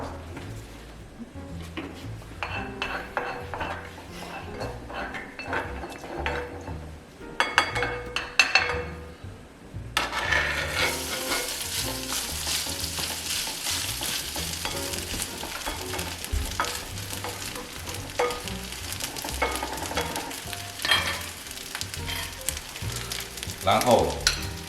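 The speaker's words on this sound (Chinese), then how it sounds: "我们把米饭，烧好的米饭放入锅中" Cooked rice stir-frying in a hot wok with a little oil, a steady loud sizzle that swells after a few seconds, with scraping and occasional clinks of the spatula against the pan.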